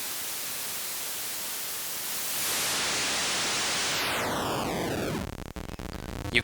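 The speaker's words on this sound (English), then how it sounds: "you can hear that classic kind of Commodore 64 noise sweep" Noise output from a Hexinverter Mutant Clap drum module starts as a steady hiss, then the pitch sweeps smoothly downward into a grainy, stepped, lo-fi buzz that trails off at the bottom.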